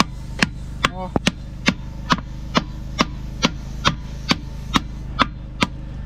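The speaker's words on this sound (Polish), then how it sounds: "pomóżmy sobie delikatnie młoteczkiem," Sharp metallic taps from a small hammer, about a dozen evenly spaced strikes over a steady low hum, with a brief quick double tap early on.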